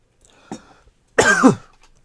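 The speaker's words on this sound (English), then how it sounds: "Always need to cough whenever I record one of these videos" A brief throat noise is followed by one loud, close cough, with quiet room tone around it.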